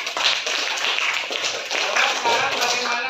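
Students in a classroom clap together in a brief burst of applause, a dense close patter of hands lasting a few seconds with faint voices mixed in.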